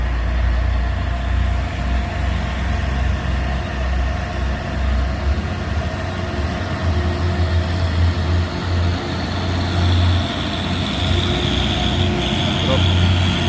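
Fuso and Hino trucks grind along a hill road with heavy diesel engine rumble and a steady low drone, loud and close, alongside other traffic.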